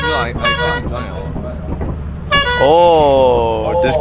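Loud harmonic car horn blasts in a driving video game, a short honk early then a long sustained toot, with players talking and reacting over it.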